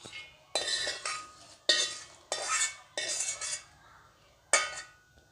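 A spoon stirs cooled tempering into ground coconut chutney in a bowl, making about six short scraping, clinking strokes with brief pauses between them, close and fairly quiet.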